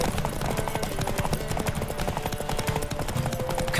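Hooves of a galloping horse in The Witcher 3 sound in a rapid, steady clip-clop under game music.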